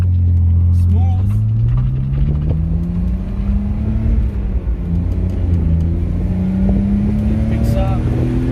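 Car engine running on freshly changed European motor oil, revving up with a rising pitch that climbs and settles, loud and close.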